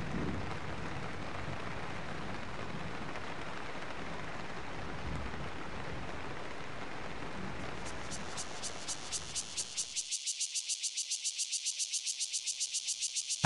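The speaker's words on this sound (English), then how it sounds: "The hen sits out the rain" Early-summer afternoon rain falling in grassland around a nesting ring-necked pheasant hen in Taiwan, a dense steady hiss of rain that cuts off, giving way to a rhythmic pulsing insect chorus alone.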